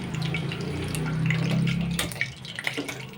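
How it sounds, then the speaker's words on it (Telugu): Water poured into a cooking pot for boiling gongura, chicken and green chillies, a steady near splashing gush for about two seconds, then a few faint clinks and drips as the pour stops. "కొన్ని వాటర్ పోస్తుండండి దీంట్లో ఉడకబెట్టుకుందాం"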